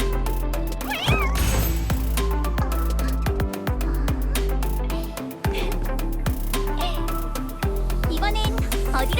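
Irem, a cat character in the Lumia video game, meows and caterwauls repeatedly in a loud, continuous, stylized string of cries over music and game effects.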